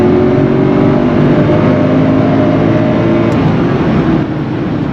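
A Mercedes V8 car accelerating hard, its engine and exhaust a loud, steady, continuous roar heard from inside the car, easing slightly near the end.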